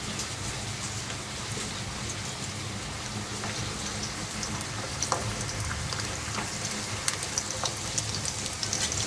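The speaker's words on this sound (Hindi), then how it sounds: "पास्ता कबाब को हम हाफ फ्राई कर लेंगे।" Pasta kebabs fry one by one in hot oil over a low flame, making a steady, dense crackle and spatter like light rain that runs the whole time without any talk.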